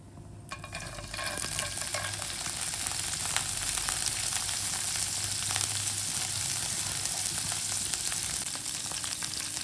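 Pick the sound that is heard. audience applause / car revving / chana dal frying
chana dal frying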